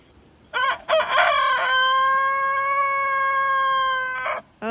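A backyard rooster gives a loud, close crow, a few rough opening notes followed by a long sustained held cry, then a short cluck at the end over quiet background.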